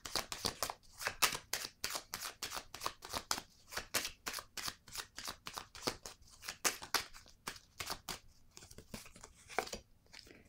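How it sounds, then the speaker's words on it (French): Horoscope oracle cards shuffled by hand, a close, steady run of crisp riffling bursts repeating rapidly for the whole stretch, with no talking. "Je vais prendre tout de suite une carte de l'horoscope de Béline."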